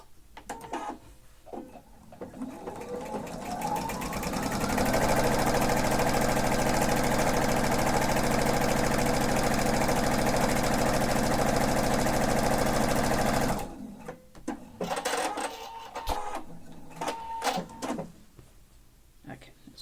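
A sewing machine stitching a practice seam while making a planner cover, ramping up to a steady, loud motor whir for about nine seconds, then stopping, with handling clicks before and after.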